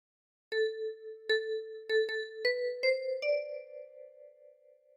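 Ten-key kalimba plucks the opening notes of What Shall We Do With the Drunken Sailor, a sequence of clear metallic tines struck one by one and rising, the last note ringing out and fading, played alone and close.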